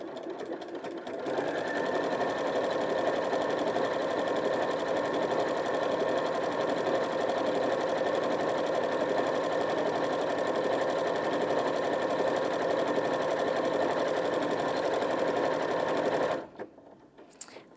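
A Janome 5060 QDC sewing machine runs a decorative stitch, its steady loud motor hum and rapid needle rhythm continuing without pause for about fifteen seconds before stopping abruptly.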